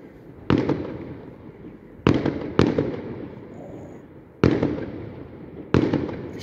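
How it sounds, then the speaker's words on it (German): Cubic cannon-salute firecrackers (Kubischer Kanonenschlag) set off outdoors: four or five sharp, loud bangs spaced irregularly, each followed by a short rumbling decay, with no talking. "Wie spät der Knaller überhaupt auch erst hierher kommt"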